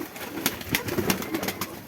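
Pakistani pigeons coo softly in a short, continuous stretch of low, breathy calls set against a diffuse background hiss.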